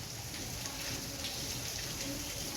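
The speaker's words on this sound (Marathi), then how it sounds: "आणि आता इतक्या जोराचा पाऊस सुरू आहे ना." Heavy rain pours down in a constant, even hiss, a continuous wash of falling water heard nearby without breaks.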